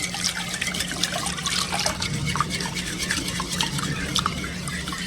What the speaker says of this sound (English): I'm going to add 1 2/3 cup of milk.